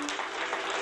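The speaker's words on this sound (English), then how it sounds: "All your hands up in the air and let's start clapping, ladies and gentlemen." An audience at a lamp-lighting and keynote event claps along together, a brief, dense burst of crowd clapping heard alone at moderate level.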